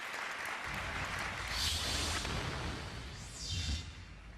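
Applause from a large audience at an Amway convention, filling a big hall as a broad, steady roar that swells in the middle and eases slightly toward the end, with some low rumble beneath.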